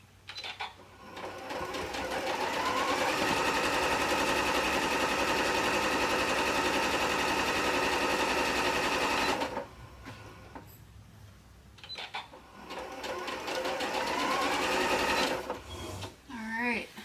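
A sewing machine hums steadily for about nine seconds while stitching a quilt, pauses, then runs again in a shorter burst, with someone talking over parts of it.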